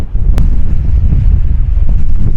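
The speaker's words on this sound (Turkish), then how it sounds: "efsane bir rüzgar var" Strong wind buffets the microphone at a seaside campsite on an open flat above Demircili Bay near Urla, İzmir, a loud continuous low roar with a single sharp click near the start.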